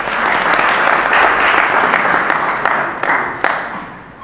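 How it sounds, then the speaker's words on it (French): A crowd at a digital-hub event for young students on Place du Souvenir gives steady, full applause that swells and then thins toward the end, with a few crisp individual claps near the close. "Aïcha, sous vos applaudissements,"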